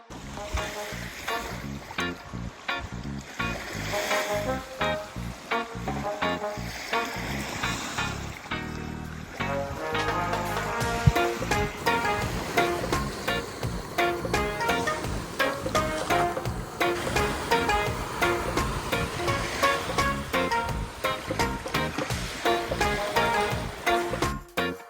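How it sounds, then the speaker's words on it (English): Gentle waves lapping on the beach at Pictured Rocks, a soft continuous wash of water with small splashes, steady and fairly quiet throughout. "let's take a stroll up the beach and just check out the views and sounds and tranquility of this wonderful area"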